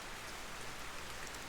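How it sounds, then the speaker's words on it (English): Rain falls in the Golden Lap racing game as a dense, even hiss of drops on the surface, steady and close with no other sounds over it. "Also appears to be raining."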